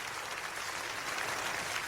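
A church congregation claps together in brief applause, a dense, fairly distant patter of many hands.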